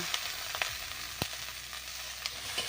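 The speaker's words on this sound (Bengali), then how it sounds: "মুলোগুলো আমার একটুখানি নাড়াচাড়া করে ভাজা ভাজা হয়েই এসেছে" Radish pieces sizzling steadily in a pan on a home stove, with a few sharp clicks of a spatula stirring and turning them; low and even, no voices.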